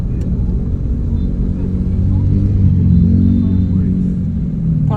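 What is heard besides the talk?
road traffic in Bangkok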